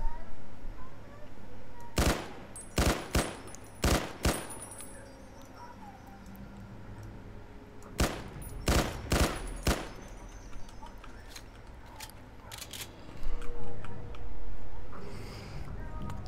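Sharp, close gunshots from the player's weapon in a hardcore Fallout mod, fired in uneven clusters of five or six rounds with quiet gaps between them, followed by a dull rumble near the end.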